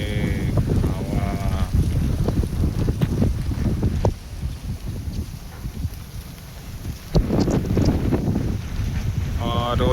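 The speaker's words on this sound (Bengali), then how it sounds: "হাওয়া।" Gusty wind blows outdoors over rice paddies under gathering clouds ahead of a storm, a loud steady roar buffeting the microphone that dips briefly in the middle before surging back, with a voice faintly present at the start and end.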